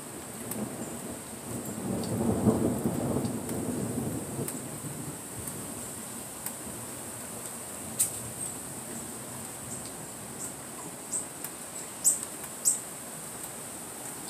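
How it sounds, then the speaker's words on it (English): Rain falling steadily outdoors with a low rumble of thunder swelling and fading early on, followed by scattered drops and bird chirps, no voices. "We are getting a little rain."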